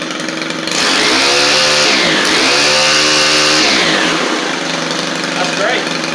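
A Stihl weedeater string trimmer fitted with a new Hipa carburetor fires up and runs close and loud, its two-stroke engine revving up and down in sweeping pitch changes before settling into a high steady buzz.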